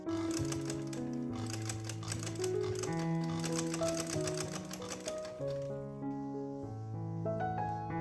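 A sewing machine stitches lace onto a kurti sleeve fabric in a fast, steady mechanical patter running continuously beneath prominent background music.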